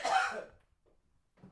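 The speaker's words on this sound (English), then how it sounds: "he's got the cough." A single close cough bursts out, followed by quiet and then a softer throaty breath or small cough near the end, inside a car with steamed-up windows.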